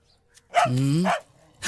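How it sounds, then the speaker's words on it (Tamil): A dog barks loudly and close by: one drawn-out, tonal bark, then a second bark begins after a short pause. "என்னது எனக்கு இல்லாம நம்ம நாய் இன்னைக்கு இப்படி குலைக்குது?"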